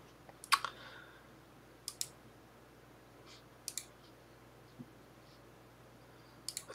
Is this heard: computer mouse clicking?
yes